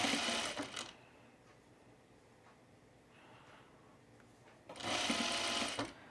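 A domestic sewing machine runs in two loud bursts of rapid, even stitching along a narrow shirt hem, close up, with a quiet pause of faint handling noises between them.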